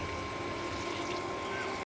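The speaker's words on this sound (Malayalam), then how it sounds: "ലേശം വെള്ളം ഒഴിച്ച് നമുക്ക് വേവിക്കാം" A steady stream of water pouring into a pot, continuous and fairly close, ending abruptly after a couple of seconds.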